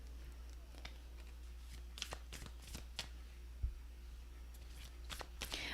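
Oracle cards are shuffled close up in a quiet room, a run of soft, quick riffling and slapping bursts repeating irregularly over a low background hum, with no talking.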